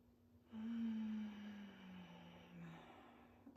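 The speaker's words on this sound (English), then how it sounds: "That soft, steady sound of Ujjayi breathing draws awareness inwards, quieting our mind" A soft, steady Ujjayi yogic breath flows through the nose, one long quiet airy exhale with a gentle throaty hiss, close and faint in a calm yoga session.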